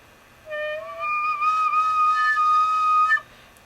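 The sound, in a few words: tin whistle squeaking from uncovered hole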